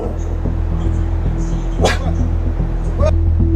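A big dog in a park gives a couple of short, sharp barks and a yip over a steady engine-like drone, fairly close and brief amid background noise.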